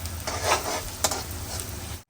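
A spoon stirs thick sizzling gravy in a pan for a Gujarati sev and banana curry, giving wet scraping swirls and a faint fry hiss, close with no talking.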